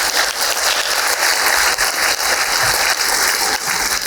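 Loud, dense applause from an audience at an annual member meeting fills the room steadily and without a break, with no speech over it.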